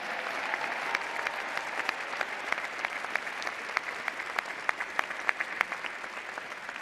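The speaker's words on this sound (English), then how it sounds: "Please give them a round of applause." Audience applause at a Florida State University spring commencement ceremony, a steady, dense clapping from a large crowd with sharp individual claps poking through, sustained evenly throughout.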